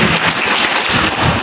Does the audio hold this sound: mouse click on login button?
no